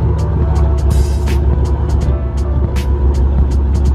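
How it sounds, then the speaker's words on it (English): A Ford Mustang Cobra engine runs steadily at idle with a deep, constant low rumble, loud and close, while sharp ticks and clicks recur over it. "I'm loving the way the car is sounding now."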